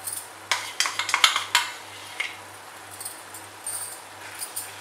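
Spices being stirred into prawn pepper masala in a pan, a few scattered spoon scrapes and clinks at moderate level over a faint steady hum, with quiet gaps between strokes.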